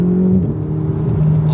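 A Ferrari 488 GTB engine revs close by, a loud steady droning tone that dips and climbs again across a short burst, with no talk.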